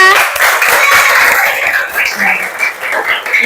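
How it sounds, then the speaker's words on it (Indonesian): Schoolchildren in an elementary school classroom clap together as their teacher calls for applause, a short burst of close, uneven clapping with voices mixed in. "Kita beri tepuk tangan untuk semuanya"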